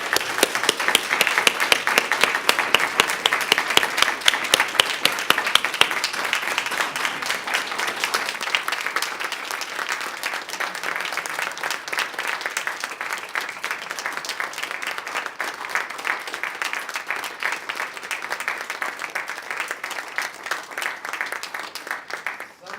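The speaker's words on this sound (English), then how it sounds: "let's give Randy a round of applause" Sustained audience applause at a lifetime achievement award ceremony, a dense wash of many hands clapping, loudest at the start and then holding steady before trailing off near the end.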